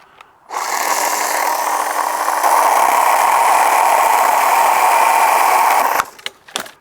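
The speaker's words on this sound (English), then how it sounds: "I'm going to make the first cut." A Bosch UniversalChain 18 cordless chainsaw with a 1.5Ah battery whines steadily and loudly at close range for several seconds while cutting a branch, then stops abruptly with a few clicks.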